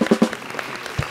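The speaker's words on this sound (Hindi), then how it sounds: "तालियां।" Studio audience applauding on a late-night talk show after a quiz contestant answers correctly, a short burst of clapping with a few stronger claps at the start and near the end.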